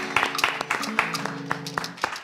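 An audience clapping at a public event, a light, loose patter of hands with some musical or vocal sounds underneath.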